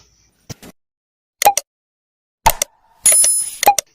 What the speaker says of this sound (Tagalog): click the notification bell beside it